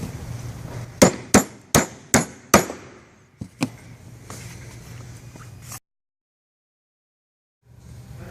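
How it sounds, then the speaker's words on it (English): A wheel cap being tapped into place on a power pumper: five sharp, evenly spaced metallic hammer taps up close, then a couple of lighter knocks, a stretch of silence and faint handling noise. "You just get it in place and tap your cap on."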